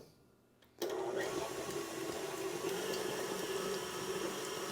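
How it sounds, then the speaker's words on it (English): An electric mixer with a whisk attachment starts abruptly and runs at a steady, loud whir while beating cream cheese, continuous to the end. "I'm just going to add the whisk attachment and I'm going to beat this cream cheese until it's light and fluffy"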